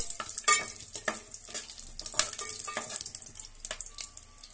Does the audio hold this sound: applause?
no